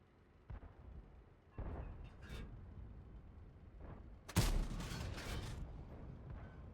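A tank cannon fires in World of Tanks, one loud booming blast about two-thirds through, set among quieter engine rumble and duller thuds.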